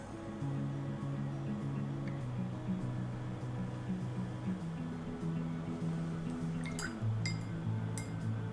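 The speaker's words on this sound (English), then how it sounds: "I wonder if you can hear me playing with the water" Water sloshing and clinking inside a glass jar, soft close tinkles and small drips over a low steady hum, with a few brighter clinks near the end.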